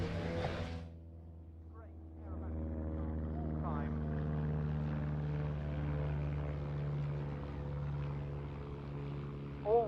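Pitts Special aerobatic propeller airplane in a flying display at Duxford airfield, with a steady droning engine hum that holds through the clip and a louder burst at the end, heard under a commentator's speech.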